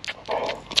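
A hyper young puppy pants in a few quick, breathy bursts very close by, brief and alone without talk.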